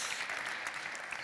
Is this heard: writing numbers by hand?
no